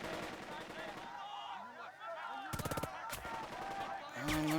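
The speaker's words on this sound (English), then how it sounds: "Let's do some shooting down here." Gunfire in the strategy video game Burden of Command, with a short rapid burst of shots near the middle and another crack near the end, set among busy game effects and a steady background soundscape.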